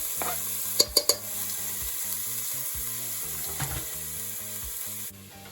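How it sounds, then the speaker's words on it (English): Minced garlic and ginger sizzle steadily in hot coconut oil, a soft continuous crackle with a few sharp clinks near the start as aromatics hit the pan, with a faint low musical hum underneath and no talking. "to the heated coconut oil, we're going to add the minced garlic and ginger"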